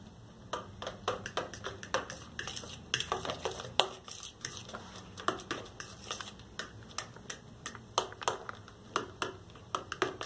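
Wheat flour being stirred gradually into a coconut-and-bread cake batter with condensed milk: a utensil clicks and scrapes against a bowl in quick, irregular taps, close and fairly crisp, with no talking.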